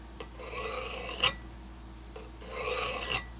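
A garden hoe blade is honed with a Work Sharp tool to take off the burr: two close, dry rasping strokes, each ending in a brief scrape, quiet and with no one speaking.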